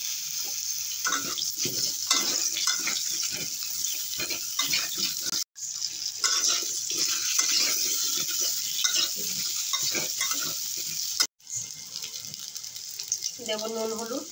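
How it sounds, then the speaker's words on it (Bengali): Taro pieces sizzle loudly in leftover fish-frying oil in a wok, giving a steady bubbling hiss broken by stirring clatter and two short cuts in the sound. "কড়াতে মাছ ভাজার তেল ছিল, কমিয়ে দিয়েছি, আর এই তেলেই কচুটা দিয়ে দেবো।"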